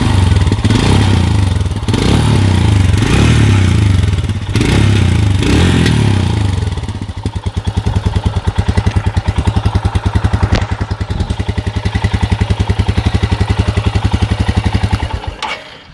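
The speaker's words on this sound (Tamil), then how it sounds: "ஸோ இதான் வந்து எக்ஸாஸ்டோட கிராங்கிங் சவுண்ட்" A Royal Enfield Himalayan BS6 (2021) cranks over with loud, rough churning bursts from the exhaust, then catches and settles into a steady, evenly thumping idle close to the listener.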